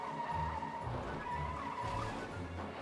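A car in a video game drives and skids, with a continuous engine drone and tire squeal running throughout, steady and close with no pauses.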